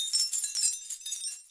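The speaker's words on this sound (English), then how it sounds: "Glass shards." Glass shards clink and tinkle in a steady, bright cluster, with many small overlapping chimes and no pauses, recorded close as a source for magical sound textures.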